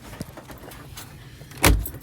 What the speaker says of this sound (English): Now I'm going to turn my key off, take the key out of the ignition